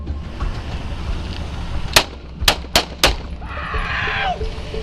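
A police officer fires a gun at a vehicle, four sharp, loud shots in quick succession, followed by a shouting voice and steady background noise.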